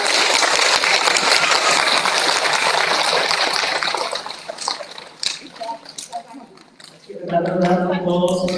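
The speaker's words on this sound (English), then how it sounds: "can we have a round of applause" Applause from a school awards assembly crowd, a dense steady wash of clapping that fades out midway, followed by a voice speaking alone at the end.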